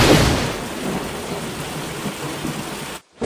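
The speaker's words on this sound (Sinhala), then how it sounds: "මහ වැස්සක් වහින්න ගත්ත අකුණු ගගහ" Heavy downpour with thunder in a Sinhala cartoon: a loud, steady roar of rain with a booming rumble at the start, continuing unbroken before cutting to silence near the end.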